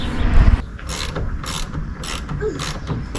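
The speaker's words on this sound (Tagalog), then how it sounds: "So higpitan ko na yung mga bolts na nilagay ko." A ratchet tightens bolts on a vehicle side awning mount, giving close, fairly loud repeated clicking strokes with a heavier thump at the start.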